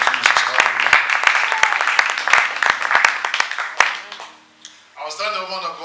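A church congregation at a revival service claps hands in a steady, loud rhythm for several seconds among crowd noise, then the clapping stops and a voice carries on.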